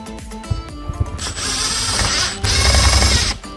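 Screws being driven down with a power driver on a MaxxAir roof fan during a campervan leak repair, two sustained close whirring bursts with a short pause between them.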